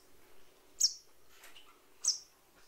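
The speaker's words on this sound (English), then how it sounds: "This is the bird fly to my hand" A tame three-month-old water bird begging for a worm gives two short, piercing chirps about a second apart, close and clear against a quiet background, with soft calls between them.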